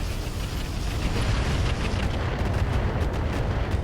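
A mech in the BattleTech video game with the RogueTech mod fires its full weapon complement at a Marauder, producing a dense, continuous roar of booming weapons fire and explosions, loud and sustained throughout.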